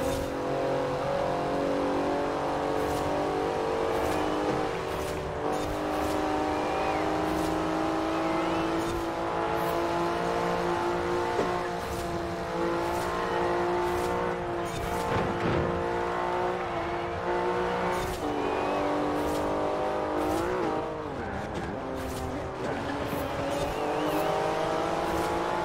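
A 2015 Porsche Cayman GTS in Forza Horizon 4 drones steadily at high revs for the whole stretch, its engine note rising and falling through gear shifts, close and loud.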